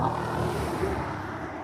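A car passes on a straight rural timber road, a steady broad rushing roar of tyres and engine that stays loud throughout, with no talking.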